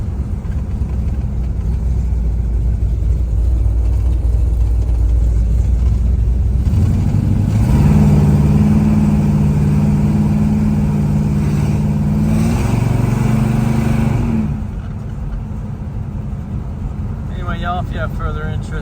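A 1969 Pontiac GTO's V8 idles low, then revs and pulls hard with a rising, throaty roar that holds for several seconds before easing off, loud and close.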